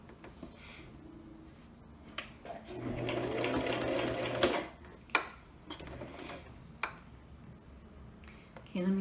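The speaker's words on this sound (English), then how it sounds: "we are going to take it to the sewing machine again" A sewing machine whirs in a short burst of topstitching on a pouch, followed by scattered clicks and taps of handling, with quiet room tone.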